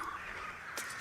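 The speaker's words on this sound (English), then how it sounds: "The crows are extremely loud." Crows cawing loudly in a video game, a broad hoarse call bursting out near the end of a brief stretch over a steady game background.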